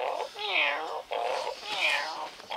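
A human voice imitates a cat in two drawn-out, wavering purr-like meows, close and clear, each rising and falling over about a second with a brief gap between them.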